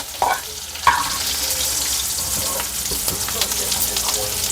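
Okra (ladyfinger) frying in a pan with spices, a steady close sizzle and crackle with a few sharp pops near the start, no talk.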